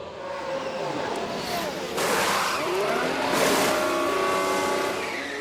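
A Ferrari Formula 1 car driven by Sainz heads into the pits at the Miami race in F1 Manager 24, with a steady loud engine drone and some tire squeal, the pitch shifting as it slows.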